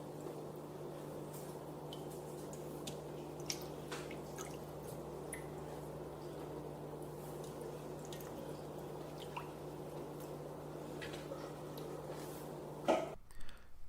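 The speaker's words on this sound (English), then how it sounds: "the salt needs to be rinsed off with cold water" Cold water rinses salt from cured mullet roe, a soft steady trickle and scattered drips running evenly, then a brief louder splash and handling noise at the end.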